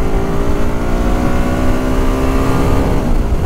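A 2011 Can-Am Spyder 990 RSS three-wheeler with 106 horsepower accelerating to overtake, a loud, continuous rising engine roar with wind rush, close and steady.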